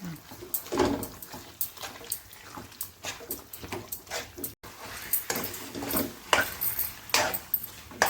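Marinated chicken being stirred in a pan for a gravy chicken dish, with repeated scraping and clinking of a utensil against the pan in an uneven rhythm, close and moderately loud throughout.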